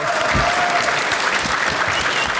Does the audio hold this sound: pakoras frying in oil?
no